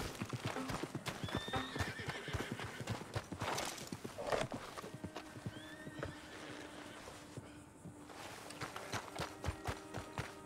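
Horse hooves clip-clop steadily in Red Dead Redemption 2, close and rhythmic, with a whinnying neigh early on, the trotting thinning briefly then resuming.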